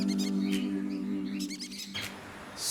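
Pet birds in an aviary holding conures, cockatiels and budgerigars give quick, bright chirps and tweets in short scattered bursts over a soft background hum.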